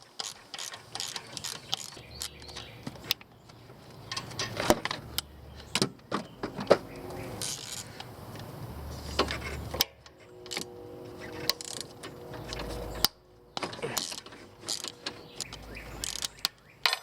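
Ratchet clicking in repeated bursts while removing nuts and bolts from a B20 Integra engine during a head gasket swap, close and fairly loud with brief pauses and clanks between runs.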